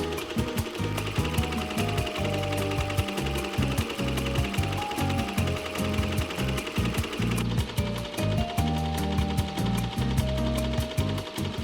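A home embroidery machine stitches a white outline, its needle hammering in a fast, steady mechanical rhythm with whirring gears, loud and continuous throughout with no talking.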